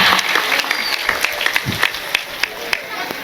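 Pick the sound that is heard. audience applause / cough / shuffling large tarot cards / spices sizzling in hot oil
audience applause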